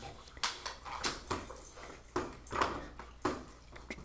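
A rescued dog moves about nearby, producing a series of soft, irregular thumps and scuffles with faint whimpering sounds, recorded at low level without speech.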